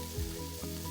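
Chickpeas (channa) tipped into a hot pot for a vegan potato curry give a short, faint sizzle, a soft hiss of frying with a light stir and no talking.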